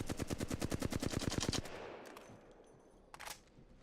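Flatline rifle in Apex Legends firing a rapid full-auto burst of about a dozen loud, evenly spaced shots, then stopping, followed by faint clinks and a short mechanical reload rattle near the end.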